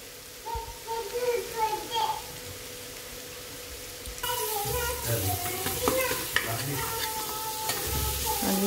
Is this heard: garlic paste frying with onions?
yes